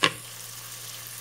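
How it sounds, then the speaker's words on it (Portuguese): Garlic and onion sauté in margarine in a pan for a white sauce, giving a steady, even sizzle after a brief clatter at the start. "Aqui eu estou dando uma refogadinha no alho e na cebola"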